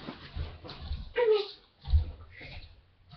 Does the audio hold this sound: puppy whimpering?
yes